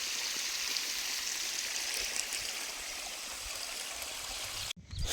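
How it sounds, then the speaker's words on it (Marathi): Irrigation water runs steadily into furrows in a sugarcane field, a broad continuous rushing wash heard close and alone, which cuts off abruptly just before the end. "आता ह्या साऱ्या त्याला पाणी चांगलं चाललंय"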